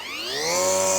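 A Makita DUR189RM cordless Li-ion LXT grass line trimmer cutting light grass on a small lawn, its motor whine rising steadily in pitch as it spins up, loud and close.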